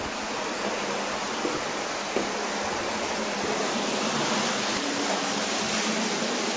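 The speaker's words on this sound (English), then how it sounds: "As we hear, the waters of the Gihon spring are still flowing." Water from the Gihon spring rushes steadily without a break, a dense close wash of flowing water with nobody speaking.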